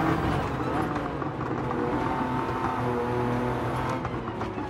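A race car accelerating hard on a track in Gran Turismo 7, a steady droning engine roar that holds close and loud throughout, with someone talking over it.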